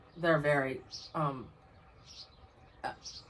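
Short bursts of bird chirps and calls repeat intermittently from a nest near a porch, fairly close, alternating with brief voiced sounds.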